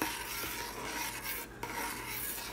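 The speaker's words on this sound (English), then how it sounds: "So I got the candy going now, and I'm just continuing to stir it up." Praline candy mixture with melted butter being stirred in a pot, giving a steady scraping, rasping rub of the spoon against the pot bottom, close and continuous, with no talking.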